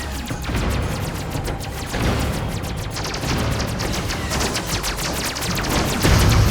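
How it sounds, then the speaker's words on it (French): Robots in the Robotcraft video game fire weapons continuously, a dense, loud stream of rapid gunfire bursts and booms rolling on without pause. "je peux tirer en continu"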